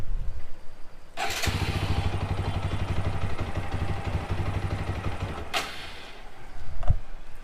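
A TVS Apache 200 4V BS6 motorcycle with a misfiring (missing) problem runs close by with a steady, pulsing engine note, briefly revving and blipping at the start and end.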